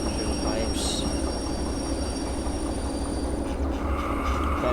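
Air rushing steadily from train brakes in the Derail Valley simulator, a continuous loud hiss and rumble with rail noise beneath, no talking in it.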